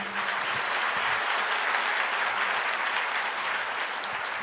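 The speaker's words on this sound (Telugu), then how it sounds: "చప్పట్లు కొట్టారా?" Sustained applause rolls through a seated church crowd at a sermon, a thick, steady patter of many hands that holds at a constant level from start to finish.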